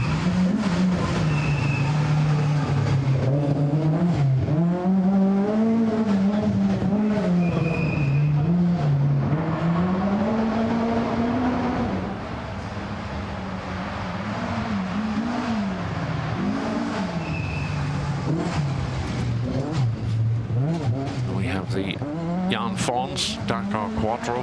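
Audi Quattro rally car idling and revving on the start ramp of a forest rally stage, its engine note rising and falling steadily and loud throughout, with a commentator talking over it.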